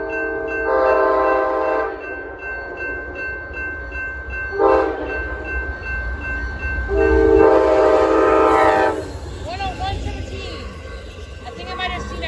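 Amtrak train 46, led by two locomotives, passes with loud sustained horn blasts over a steady rumble of rolling cars, the horn sounding in three separate bursts before the noise settles into continuing rail clatter.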